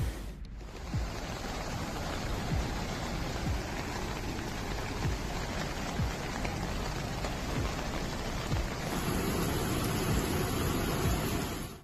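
Torrential rain pours steadily on Crete, a dense, continuous hiss of heavy downpour with drops pattering on surfaces, loud and unbroken throughout.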